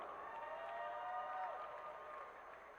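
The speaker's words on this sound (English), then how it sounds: "please give a big round of applause to our amazing eyebrow contest competitors" An audience at the Cleveland Gaming Classic applauds and cheers for eyebrow contest competitors. The faint, distant clapping forms a continuous wash over tonal background music, tapering slightly toward the end.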